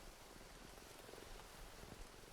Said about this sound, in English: Well, it's purring.